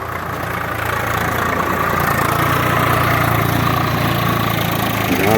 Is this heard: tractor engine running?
yes